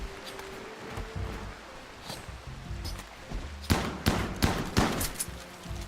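Heavy SMG and rifle fire in a video game firefight, distant bursts at first and then louder, rapid clusters of shots in the second half over a low rumble.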